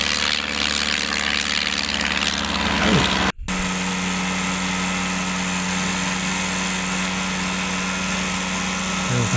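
A vintage British Auster Autocrat light propeller aircraft at Perranporth airfield, its engine droning loud and steady at close range, with a brief dropout before the propeller drone resumes for takeoff.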